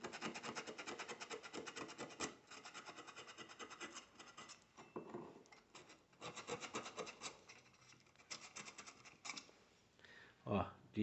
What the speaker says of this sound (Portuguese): Eu vou lixar aqui a parte interna também